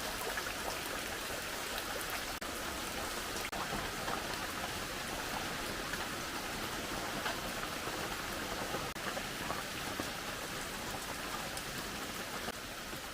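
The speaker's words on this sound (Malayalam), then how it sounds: "രാവിലെ മഴ തുടങ്ങിയിട്ടുണ്ട്." Morning rain falls steadily and evenly as a continuous soft hiss of drops on surfaces, moderately distant and unbroken, with no voices.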